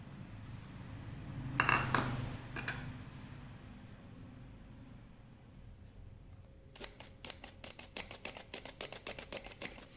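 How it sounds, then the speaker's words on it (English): Maida flour and cocoa powder shaken through a metal sieve in a home kitchen, a quiet scrape and clink early on, then a run of rapid light tapping and rattling toward the end. "let's sieve the maida and cocoa powder together"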